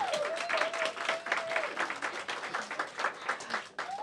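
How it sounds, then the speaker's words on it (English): Students at a DC public schools funding event applaud in a steady, fairly distant wash of clapping, with a voice briefly sounding over the crowd at the start and end. "Give yourselves a round of applause."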